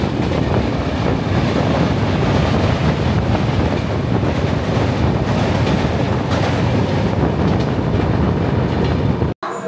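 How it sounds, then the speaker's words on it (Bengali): The Falaknuma Express runs at speed after leaving a station, giving a loud, unbroken rumble with rattling wheels and wind buffeting the microphone, cut off abruptly near the end. "আমাদের ট্রেন ছেড়ে দিল জাজপুর কেওনঝড় রোড স্টেশন"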